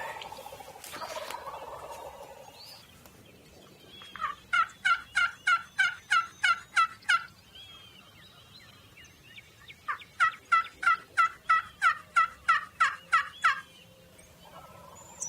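An eastern wild turkey gobbler calls in two long bursts of rapid, rattling gobbles, clear and fairly close, separated by a few seconds of quiet outdoor ambience.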